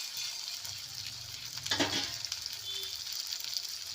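Chicken and potatoes with chopped coriander fry in oil in a pan for a chicken curry. A steady sizzle runs throughout, and a brief louder burst of stirring comes near the middle.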